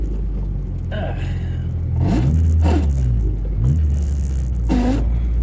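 A 1988 Toyota MR2 AW11 with a shifter that balks at third gear; the nearby engine idles, then revs up and falls away in several uneven bursts as the gear change is tried.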